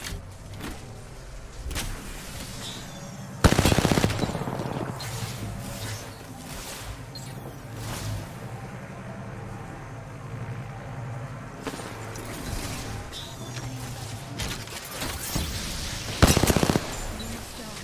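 Automatic weapon fire in the video game Apex Legends, a steady stream of rapid shots with a couple of louder bursts standing out, continuous and dense under game noise.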